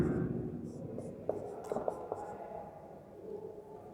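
Chalk or marker taps and scratches on a board during a history lecture, several short sharp strokes clustered in the middle over a soft background murmur, fairly quiet.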